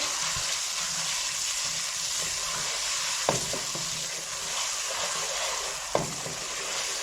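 Masala frying in a pan for shahi daal, a steady close sizzle and hiss running throughout, broken by a couple of sharp spoon knocks and light stirring, with no one speaking.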